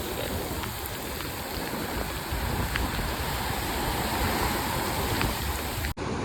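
Rain falls outdoors as a dense, steady wash of noise that holds evenly for several seconds and then cuts off abruptly near the end.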